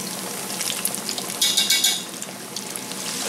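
Croaker fish deep-fry in a pot of oil, giving a steady close hiss and crackle with a brief louder sizzling flare midway and no voices.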